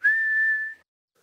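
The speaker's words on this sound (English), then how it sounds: "I'm whistling." A cartoon pig whistles a single steady, clear note for under a second, close and alone, followed by silence.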